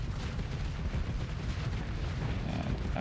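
Missiles and torpedoes striking ships in the Starsector space battle game, a dense barrage of overlapping explosions and rumbling impacts, loud and continuous, with no talking.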